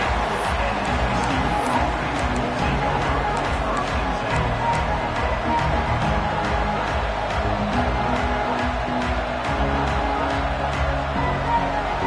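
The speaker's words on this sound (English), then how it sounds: "Listen to the crowd energy here in the early going." Football stadium crowd roaring and cheering in a constant, loud, dense wash of noise during the early going of a game, with no clear breaks.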